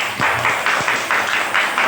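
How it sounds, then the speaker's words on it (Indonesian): Applause in an Indonesian teacher-training class session, a short burst of rhythmic group clapping in a regular pulsing beat, close and fairly loud. "Kasih tepuk tangan dulu."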